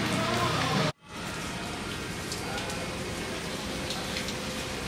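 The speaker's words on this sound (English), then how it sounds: "That's our runway. It's raining." Steady rain falls at an island airstrip runway, a constant close hiss of drops interrupted by a brief cut to near silence about one second in, then resuming at a slightly lower level.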